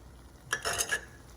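A spoon briefly stirs and clinks while smoked paprika, brown sugar and garlic powder are worked into butter for Nashville crispy tofu, a few quick scraping taps close by, then quiet.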